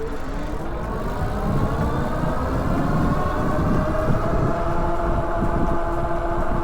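A Kingbull Literider 2.0 folding fat tire e-bike rides on throttle only, giving a continuous rising motor whine over rumbling tire and wind noise that builds steadily as it speeds up.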